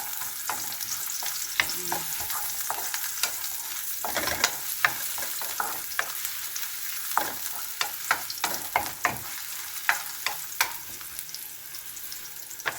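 Garlic, onion and ginger sauté in plenty of oil in a pot, with a steady sizzle and a long run of quick spatula scrapes and knocks, thick in the second half, and no voices.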